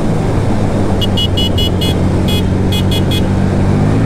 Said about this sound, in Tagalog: Ayan yung busina niya.